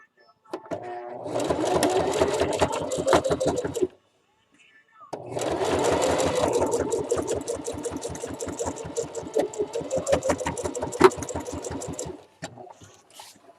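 A sewing machine stitches a fabric Easter basket in two long steady runs of rapid needle clatter, with a short pause between them and a few faint clicks at the end.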